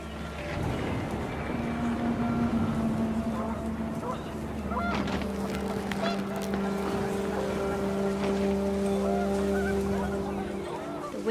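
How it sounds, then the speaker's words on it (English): Panicked geese honking in gusting wind at an outdoor family gathering in the video game What Remains of Edith Finch, with steady loud wind noise and a few drawn-out honks. "The wind picked up and panicked geese appeared and quickly went."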